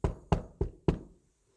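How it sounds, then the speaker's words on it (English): Four sharp, evenly spaced knocks on a door, fairly close, then quiet. "there was another knock on the door."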